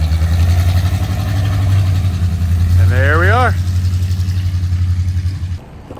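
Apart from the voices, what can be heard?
car exhaust rumbling while engine idles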